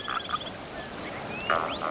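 Two short frog croaks at the start, then a louder croaking call near the end, with faint birdsong in the background.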